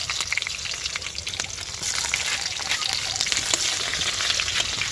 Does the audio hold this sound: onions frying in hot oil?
yes